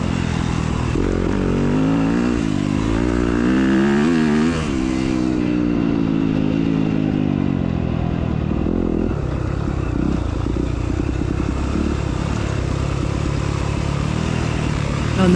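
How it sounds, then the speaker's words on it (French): A 250 cross-country motorcycle at the 2023 French Cross Country Championship in Rennes-les-Bains rides a rough track, its engine loud and close, revving in jerky surges with clattering over the bumps. "t'entends les à-coups du moteur"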